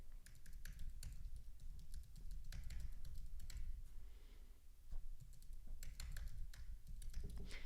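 Someone types on a computer keyboard nearby at a quiet level, with rapid uneven key clicks in bursts and no speech.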